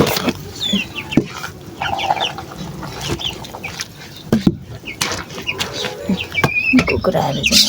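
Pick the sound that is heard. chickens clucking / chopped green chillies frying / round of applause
chickens clucking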